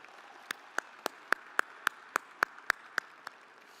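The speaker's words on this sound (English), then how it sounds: "how about another round of applause for Anna's victory" At a Native convention in Alaska, isolated hand claps ring out at a steady, slightly uneven pace, about ten single claps in under four seconds. They are close and distinct rather than a full crowd roar.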